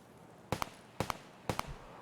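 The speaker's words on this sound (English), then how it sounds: "Gunshots, gunshots, gunshots." Three sharp bursts of gunfire in the video game Escape From Tarkov at steady half-second intervals, each a quick double crack, fairly distant and faint, with no voices.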